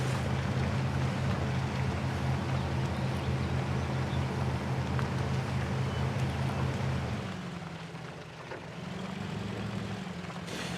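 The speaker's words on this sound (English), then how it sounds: "There's a lot of wheel spin." The UAZ truck in Spintires Mudrunner drones with a steady, low engine hum as its wheels spin, then the pitch shifts and wavers as it strains on the terrain; moderately loud, with no voices.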